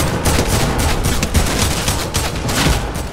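Rapid bursts of automatic gunfire from a Fortnite firefight, loud and close, with dense repeated shots crackling in quick succession and no pauses for talk.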